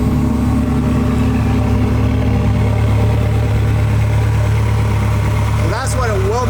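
A Ferrari F360's 3.6-liter V8 engine idles with a deep, steady rumble, close and loud, with a brief higher whine near the end.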